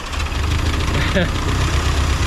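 An 80-year-old Willys Jeep CJ2a engine, run after years of sitting, idles roughly with a steady, close low rumble and a slight dip in revs as the sluggish throttle falters.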